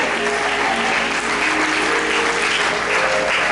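A church congregation at a French-language morning service claps for the word of God, with steady, loud, sustained applause filling the room throughout.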